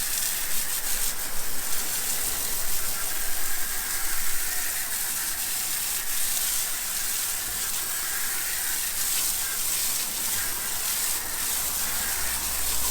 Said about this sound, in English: we're just gonna go ahead and wash it away now.